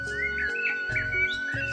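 An injured parrot with a hurt wing, unable to fly, chirps in a cartoon story, giving several short, bright tweets over a sustained musical backdrop.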